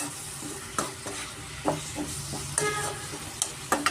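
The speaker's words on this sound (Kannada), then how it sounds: "ಆಲೂಗಡ್ಡೆ ಚೆನ್ನಾಗಿ ಎಣ್ಣೆನೆಲ್ಲ ಸ್ವಲ್ಪ ಫ್ರೈ ಆಗಬೇಕಾಗುತ್ತೆ" Potatoes frying in oil for an aloo menthya curry sizzle steadily while a utensil scrapes and knocks against the pan in irregular strokes, close and clear, with no voices.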